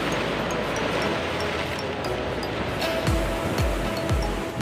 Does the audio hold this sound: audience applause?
no